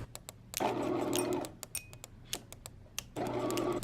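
A sewing machine stitches elastic loops onto fabric, two bursts of rapid close mechanical whirring with light clicks and taps from handling the fabric between them.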